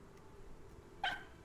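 A fox in the video game Rime gives a single short, high yip or bark about a second in, standing out over a faint low background hum.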